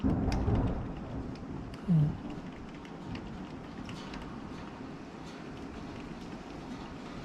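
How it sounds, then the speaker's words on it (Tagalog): Heavy rain pouring down outdoors near a pool, a steady, fairly quiet hiss of drops with a brief low thump early on that could be distant thunder. "lumakasan na ang ulan"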